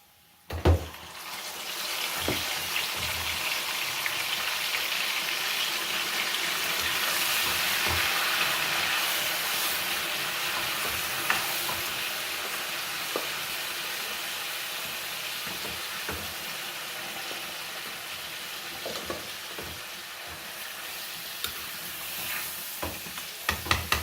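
Chicken pieces fry in a pot for biryani with a continuous bright sizzle, broken by scattered knocks and scrapes of stirring, loud and close with no talking.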